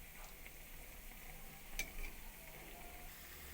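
Kheer pitha frying in oil in a wok, a faint, steady sizzle running throughout with a brief clink or tick from stirring partway through.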